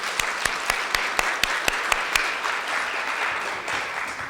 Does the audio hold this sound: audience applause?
yes